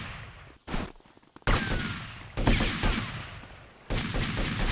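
Gunfire in the video game GTA: Vice City, with loud bursts of rapid shots in separate volleys and brief quieter gaps between them, close and dense.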